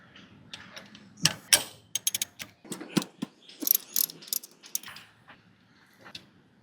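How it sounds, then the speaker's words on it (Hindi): A socket wrench works a 14 mm nut loose on a Hero Honda CD100 rear wheel, giving a string of sharp metallic ratchet clicks and clanks, close and fairly loud, in irregular bursts with no talking. "14 नंबर का नट है, 14 नंबर का सॉकेट इस पर लगा देते हैं।"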